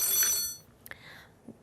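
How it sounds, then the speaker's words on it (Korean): A telephone bell rings once for an incoming call in a finance broadcast studio, a bright ring that cuts off quickly, followed by a couple of faint clicks. "전화 온 것 같습니다"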